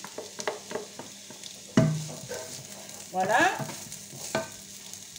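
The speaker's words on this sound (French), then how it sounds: "je vais déjà mettre juste un peu d'huile pour démarrer la cuisson pour mes oignons et mon ail" Onions and garlic hit hot oil in a pan, a sudden sizzle bursting up and settling into steady frying, with stirring scrapes and clatter; a brief word is spoken.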